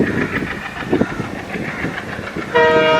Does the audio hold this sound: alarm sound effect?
no